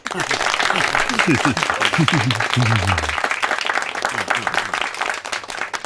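A party committee meeting breaks into sustained applause to pass a decision, a dense wash of many hands clapping, with voices talking and calling over it for the first few seconds.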